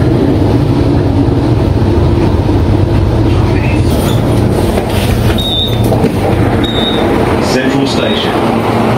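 A train pulling into Central Station in Brisbane, heard from on board as a loud continuous rolling rumble with brief high wheel squeals and chimes partway through, a voice speaking over it.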